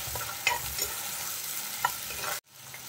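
Curry base for a fish curry being sautéed in a pan, a steady soft sizzle broken by a few light scrapes of stirring, with a brief sharp drop near the end.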